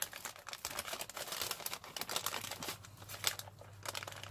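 Paper being cut for a craft project gives faint, close, irregular crisp snips and crinkles over several seconds, with no talking.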